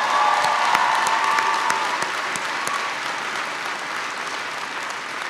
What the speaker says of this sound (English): Can everybody please give Jody a big round of applause for the introduction?